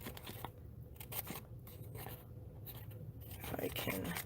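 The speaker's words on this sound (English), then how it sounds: "So we're just going to trim around it." Scissors trimming around a paper card, soft snipping and rustling cuts in short bursts, close and fairly quiet, with someone talking over part of it.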